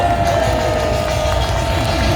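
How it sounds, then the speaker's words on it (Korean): Church congregation clapping loudly and steadily, a dense continuous wash of applause filling the whole stretch with a sustained low musical drone underneath. "더 박수 좀 크게 좀 해주세요"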